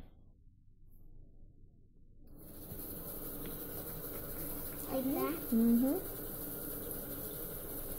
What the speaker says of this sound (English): let's put this under the faucet and turn the water on